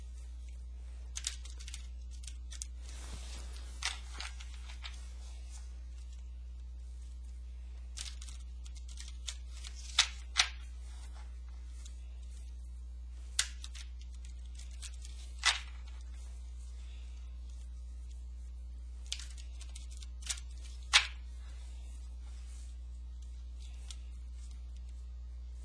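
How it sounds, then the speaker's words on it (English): Grace oracle cards shuffled by hand during a spiritual tarot-style reading, a faint, close series of soft papery riffles and taps scattered through a quiet room, with no talking. "Put a good shuffle on them."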